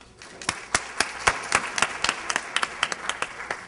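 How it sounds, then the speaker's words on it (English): A conference brunch audience applauds in a steady patter of clapping, with sharper individual claps standing out over a continuous wash of hands, moderately loud and sustained throughout. "give them one more round of applause"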